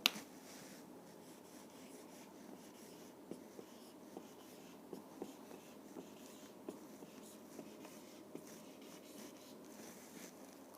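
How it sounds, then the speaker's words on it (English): Marker or chalk scratching across a classroom board in a run of short, faint strokes with small ticks, quiet and close, no voice over it. "I'll just write it here."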